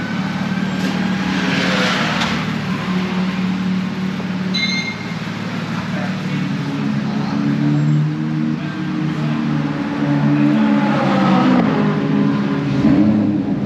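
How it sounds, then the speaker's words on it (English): A 25-plate McLaren supercar running on the Knockhill race track gives a continuous droning engine rumble that swells and rises in pitch toward the end, heard alone without voices. "25 plate McLaren, right on the track."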